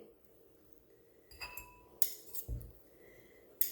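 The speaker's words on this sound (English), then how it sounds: "we take a spoonful of the yellow yolk that we've created, and we're just going to spoon it in" Spoon and fork clinking against a dish while egg yolk filling is spooned into halved egg whites for deviled eggs, a few sharp scattered taps and scrapes, close and otherwise quiet.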